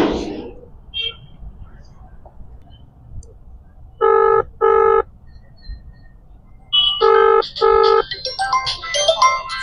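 A telephone ringback tone sounds while a call is placed, two ring bursts heard clearly, then another pair with further tones and background noise as the call connects.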